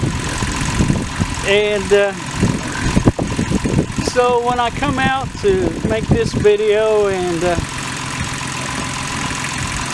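A farm tractor engine idles steadily underneath someone talking close by, its low, even rumble holding constant through the pauses in his speech.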